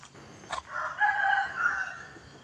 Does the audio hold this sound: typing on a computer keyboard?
no